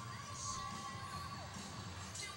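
Spectators at a 2011 NCAA women's gymnastics meet, Illinois at Ohio State, cheer and shout in a distant, faint, steady wash of crowd noise.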